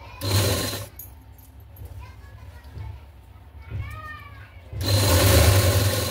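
A sewing machine runs in short bursts while stitching piping onto a blouse neck, a close loud whirring at the start and end with a quieter stretch between, as someone talks over it.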